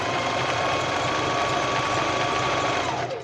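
A sewing machine stitching a pocket onto a pair of pants, running in one continuous fast mechanical whir with a steady rhythmic needle clatter, close and fairly loud, with no talking.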